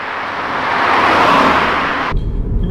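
Steady broadband road roar of wind and tyre noise inside a Suzuki Ignis cruising at higher speed, loud and continuous, then abruptly shifting to a lower rumble near the end.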